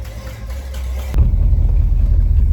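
Buick engine with a 4-barrel carburetor on a 2-barrel intake running super rich, close and loud, idling briefly then surging into a deep rumbling rev after about a second.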